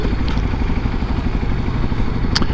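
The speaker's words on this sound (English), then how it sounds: "It's a 250cc single cylinder sport bike." A Kawasaki Ninja 250SL, a 250cc single-cylinder sport bike, runs underway with a loud, close, rapid thumping engine pulse and rushing wind, steady throughout.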